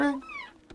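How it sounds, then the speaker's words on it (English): A pet cat gives a single short, close meow with a rising-then-falling pitch, followed by a person speaking briefly. "That's my cat"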